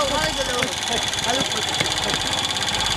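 A vehicle engine runs at a steady rumbling idle with faint rhythmic knocking, while voices talk nearby.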